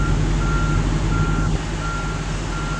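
A truck's reversing alarm sounds three evenly spaced beeps over loud, steady engine idle and traffic noise while the truck backs into a parking spot.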